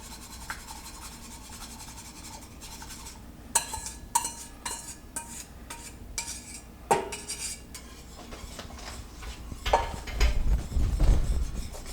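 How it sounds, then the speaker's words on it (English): A metal whisk stirs roux into hot simmering stock in a pot for a velouté sauce, with steady scraping and scattered sharp clinks against the pan, growing busier and louder toward the end; no talking. "Now we're going to add this to our hot simmering stock while whisking."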